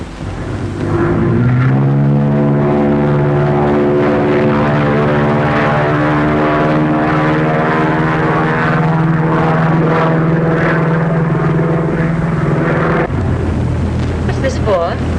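A propeller airplane engine drones steadily in flight, loud and close, with a sustained harmonic hum that holds for most of the stretch before shifting near the end; a voice is faintly present over the engine.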